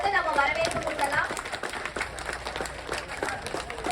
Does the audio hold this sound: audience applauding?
yes